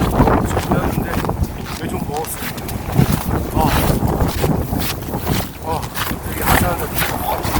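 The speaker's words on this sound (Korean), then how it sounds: "바람 많이 불고 있으니까" Strong winter gusts roar across a mountain ridge near Daegwallyeong in Gangwon-do, buffeting the microphone with a constant heavy rumble, while a person talks intermittently over the blustery noise.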